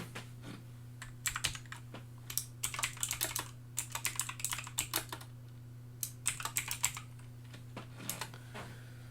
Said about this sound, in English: Let me type it on the list instead.